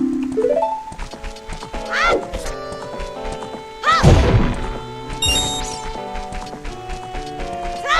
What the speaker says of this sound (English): And a fiery explosion.